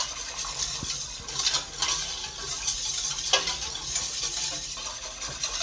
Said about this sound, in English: So you just want to kind of keep stirring so none of the flour stops and settles.